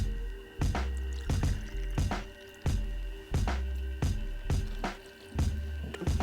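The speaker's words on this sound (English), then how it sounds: "We're gonna start with 2 ounces of vodka, going with the Wheatley again." Vodka poured into a cocktail shaker over crushed ice, with repeated wet sloshing, dripping bursts in a loose rhythm, close and fairly loud, no voices.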